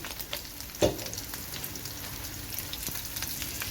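Fish roe sizzles softly in a covered pan, a faint steady crackle with one brief clatter near the start and scattered pops.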